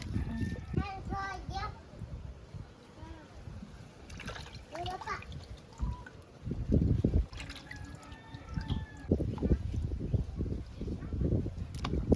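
Raw mutton pieces being washed by hand in a bowl of water, with splashing, dripping and trickling sounds up close, while someone talks over much of it in a home kitchen.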